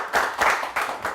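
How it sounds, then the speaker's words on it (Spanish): Welcoming applause from a small audience at an evening talk show, a few quick bursts of clapping in uneven waves, close and fairly light. "Miguel Guillén, que le damos un aplauso de bienvenida"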